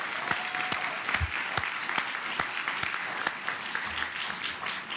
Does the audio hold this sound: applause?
yes